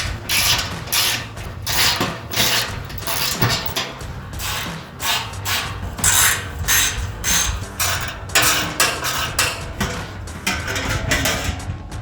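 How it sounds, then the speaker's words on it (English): A ratchet loosening 12mm skid plate bolts on a 2016-2023 Toyota Tacoma, with steady clicking and mechanical rattling that continues close and fairly loud, and no talking. "We're going to take off 4 12mm bolts for the skid plate"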